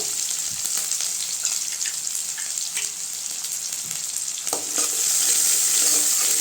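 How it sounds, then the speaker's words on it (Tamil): Dried red chillies, onion, cumin and curry leaves sautéing in hot oil in a pan for bottle gourd kootu, giving a continuous close sizzle with occasional stirring clicks and a louder surge of frying near the end, no voices. "எல்லாம் சேர்த்துட்டு கொஞ்சம் வதக்கி விட்டுக்கலாங்க வெங்காயம் நல்லா வதங்கணும்"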